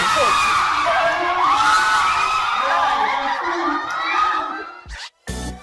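Loud, sustained screaming and cheering from a crowd of fans at an SB19 fan service show in Indonesia, a dense wall of shrill voices that swells and then cuts off near the end.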